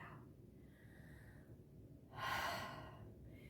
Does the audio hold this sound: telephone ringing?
no